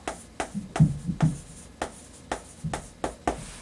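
A sentence written by hand with a pen on paper, a rapid series of close tapping strokes and short scratches in an uneven rhythm, quiet and alone without talk.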